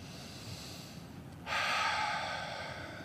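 One deep breath is drawn and released near the microphone, a soft airy rush that swells suddenly halfway through and then slowly tapers, shown as a relaxation technique at a Toastmasters meeting.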